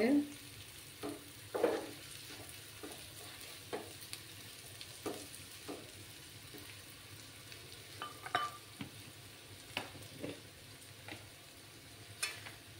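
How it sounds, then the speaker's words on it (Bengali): Potatoes and onions are stirred together in a pan over a low gas flame. A soft, constant sizzle sits beneath repeated scraping knocks of the spoon against the pan. "আলুগুলোকে ভালো করে পেঁয়াজের সঙ্গে মিশিয়ে নেব"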